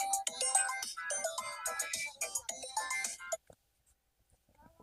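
A mobile phone ringtone plays loud and close, a bright electronic melody of rapid repeated notes that runs for about three seconds and then cuts off abruptly, leaving near silence.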